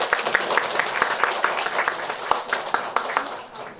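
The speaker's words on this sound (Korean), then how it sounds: "우리 박사님을 박수로 모시겠습니다." A church health seminar audience applauds to welcome the lecturer, a dense, steady wash of clapping in a room with a few sharper claps standing out.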